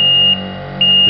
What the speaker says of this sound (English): We have an alarm sounding indicating that it's not safe to lift.